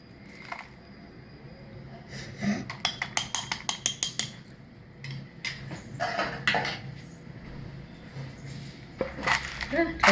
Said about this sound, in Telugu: దీన్ని పక్కకు పెట్టేసుకొని మిర్చి అవి రోట్లో నూరుకుందాము